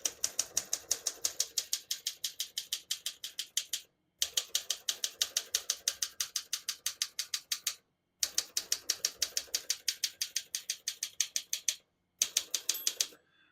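Rapid, steady mechanical clacking of a 1961 Olympia SM7 manual portable typewriter's keys in four bursts separated by short pauses, close and fairly crisp.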